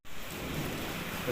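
Heavy rain pours down steadily in a residential colony, a dense, continuous hiss that is fairly faint, with no voices.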